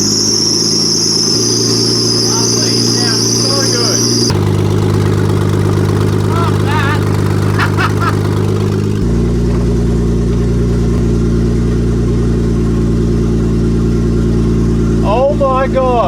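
A Nissan Stagea 260RS runs with its titanium front pipe removed so exhaust leaves straight out of the turbo, a loud steady engine drone that shifts in pitch and character in several stages, with insect-like chirps above it.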